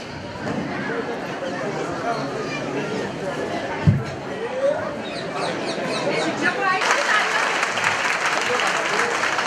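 An audience claps at a village primary school's January 26 event, with a steady wash of applause lasting throughout and swelling slightly toward the end. A voice talks over the clapping and a sharp thump stands out partway through.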